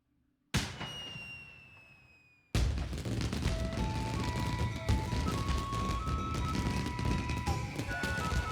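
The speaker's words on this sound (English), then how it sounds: "Yay, a little fireworks show." Fireworks show in the video game Okami HD: a descending whistle rings out, then a loud burst opens into several seconds of dense crackling and popping, with no voices.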